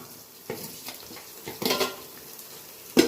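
Ginger paste and green chilli sautéing in a pan for chicken biryani, with soft sizzling, a few scattered clinks and scrapes of a spoon against the metal, and a sharper knock near the end.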